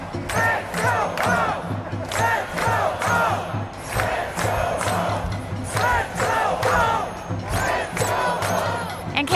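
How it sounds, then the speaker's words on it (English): Protest crowd outdoors in Portland chanting "Feds go home" in a steady, repeated rhythmic cadence, loud and sustained throughout, many voices shouting in unison with rising and falling bursts. "the crowd is chanting "Feds go home.""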